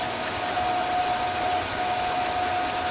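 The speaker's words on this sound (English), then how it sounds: "I'm going to give them a quick scuff with a Scotch-Brite, clean them up" Steel pieces for a mini Jeep's new front axle are scuffed clean with a Scotch-Brite pad before TIG welding, giving a steady, close, continuous abrasive rubbing hiss with no pauses.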